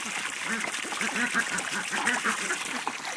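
Ducks quacking on a duck farm, a rapid run of repeated nasal quacks close by, with a person talking over them.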